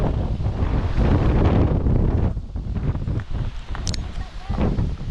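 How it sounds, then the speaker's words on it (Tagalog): Strong gusting wind buffets the microphone in loud rumbling bursts, with faint voices and motion noise underneath. "Lakas ng hangin."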